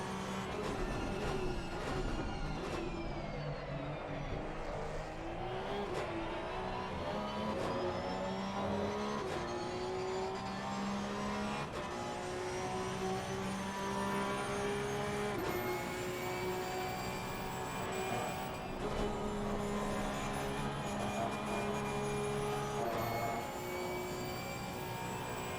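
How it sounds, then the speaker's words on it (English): A Porsche Cup race car at Spa-Francorchamps, heard from onboard, howls through rising and falling engine revs with quick upshifts and downshifts, loud, close and continuous, with no voices. "That is such a nice sounding car."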